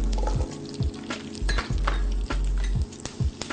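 Shallots, garlic and curry leaves sautéing in a pan, a crackling sizzle punctuated by irregular knocks and scrapes of a spoon stirring against the metal, close by.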